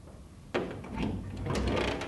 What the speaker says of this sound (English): great big doors with the windows that fold down and clip in